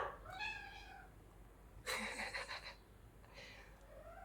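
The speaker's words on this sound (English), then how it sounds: "you hear my cat in the background" A pet cat meows indoors, a few drawn-out rising and falling calls close to the microphone with a louder burst in the middle, against quiet room tone.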